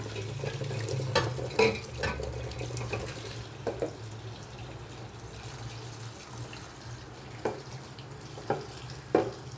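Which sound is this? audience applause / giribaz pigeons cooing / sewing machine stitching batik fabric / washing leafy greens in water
washing leafy greens in water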